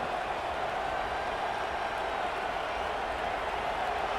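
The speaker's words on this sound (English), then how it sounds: "This offense trying to quieten the crowd on first and goal, and they are not cooperating." A stadium crowd in the NCAA College Football 25 video game roars steadily and loudly as Michigan State faces first and goal at the one-yard line. The dense wash of noise stays constant throughout, with faint clapping mixed in.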